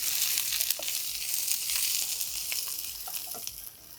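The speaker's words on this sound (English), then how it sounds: "when the garlic is browning" Garlic frying in a pan for Sri Lankan yellow rice gives a steady, close hiss of sizzling oil with scattered small pops and crackles throughout, no talk over it.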